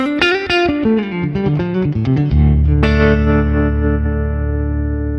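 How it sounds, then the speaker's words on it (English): Distorted electric guitar through an amp plays a quick descending run, then a sustained chord rings out and slowly decays with a reverberant spring-reverb wash. "This is the reverb, which is set to 63 spring."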